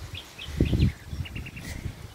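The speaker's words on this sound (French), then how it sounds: "écoutez les oiseaux aussi" Small birds chirp and tweet faintly in the distance, short repeated calls over outdoor rustle and a few low thumps.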